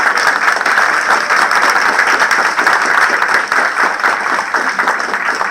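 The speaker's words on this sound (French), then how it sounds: "je vous demande de bien vouloir les applaudir" Audience at a town's New Year greetings ceremony applauding, a sustained, loud wash of many hands clapping evenly with no break.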